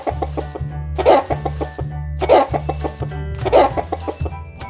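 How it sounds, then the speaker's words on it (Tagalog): Farm chickens clucking in repeated bursts of three, loud and close, over a steady low background hum with no talk. "Ayam. Chicken."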